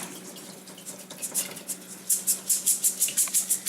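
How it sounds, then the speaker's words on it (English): Tap water runs and splashes over long grain rice being rinsed in a sink, starting as a soft steady stream and building into rhythmic sloshing pulses as the grains are swirled, close and alone. "So we're going to start off first by rinsing the rice."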